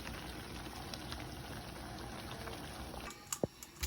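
Hot water pours into a cooking pot of banana dumplings and curry, a soft, steady liquid rush that stops, followed by a couple of small clinks.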